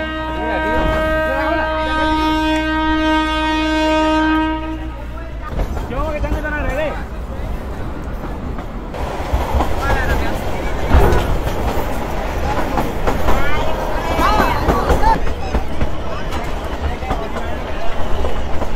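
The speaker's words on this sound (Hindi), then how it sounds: "और ये एक तरह से कह सकते हैं स्लोएस्ट ट्रेन है। डिपार्चर बस होने वाला है अपना" A heritage train on a 115-year-old railway line pulls away, starting with a long, steady horn blast, then rumbling and clattering louder along the track with crowd babble and voices mixed in.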